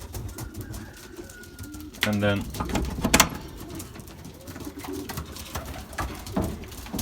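Soft, low cooing from Belgian racing pigeons settling in a loft after a 40 km young-bird test race, a steady murmur beneath someone speaking nearby, with a brief burst of fluttering and clatter near the middle.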